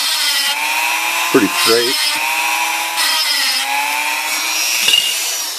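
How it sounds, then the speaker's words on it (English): A Dremel rotary tool freehand-cutting an IBM Selectric III typewriter paper guide slider drones steadily and loudly from start to finish, with a brief voice cutting in over the whine. "Dremel tool has come loose"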